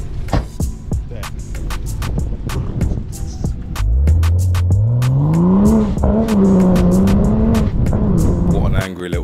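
A Toyota Supra MK5 with a titanium charge pipe pulls away on a mountain road, its engine rising in pitch as it accelerates through the gears, loud and close, with brief crackles and people talking over it.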